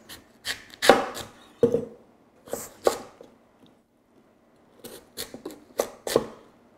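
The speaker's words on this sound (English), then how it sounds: "We're gonna cut these into big chunks need four big pieces" A knife chops Korean radish into big chunks on a cutting board, giving sharp, separate thuds in small bursts with pauses between them, close and clear with no talking.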